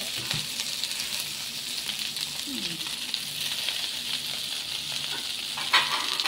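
Steady sizzling of winged beans frying in a pan, a continuous crackling hiss with a few faint clinks of a utensil.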